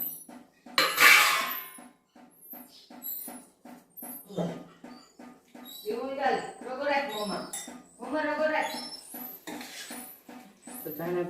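Spoon stirring and scraping in a cooking pot while a drumstick (moringa) vegetable curry with chickpea-flour flatbread pieces simmers on a low gas flame, giving repeated soft clinks and scrapes under steady talk.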